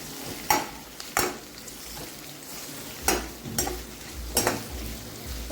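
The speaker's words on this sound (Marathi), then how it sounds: "जे मी कांदे कट करून घेतले होते मोठे, ते आता आपण टाकलेले आहेत कढईमध्ये. आता आपण हे चांगलं मिक्स करून घेतलं." Large chopped onions being stirred in a kadhai for egg curry, with about five brisk scraping strokes of a spoon in the pan over a low, steady background.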